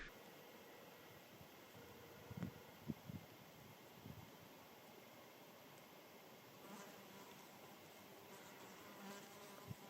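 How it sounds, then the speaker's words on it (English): Faint buzzing of insects flying past on a quiet mountain ridge in Galway, with a few closer passes standing out against soft background hiss. "I can hear all the insects sort of buzzing past."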